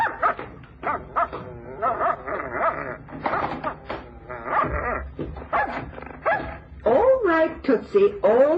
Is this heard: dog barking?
yes